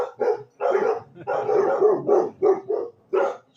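Several dogs bark in quick bursts close by, a run of about eight sharp yips and barks with short gaps between them.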